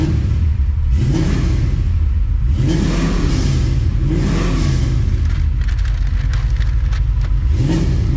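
A 1978 Chevy Malibu with an LS swap and a carbureted engine runs close and loud, a deep, rumbling idle whose tone swells and falls in slow repeated waves over about eight seconds.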